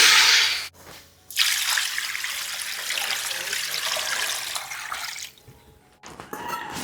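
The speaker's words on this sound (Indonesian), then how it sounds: "Lanjut masukin air." Water poured into a cooking pot for a bone and salted mustard green soup, a broad rushing splash running several seconds after a short first burst, close and loud, ending abruptly with brief trickling.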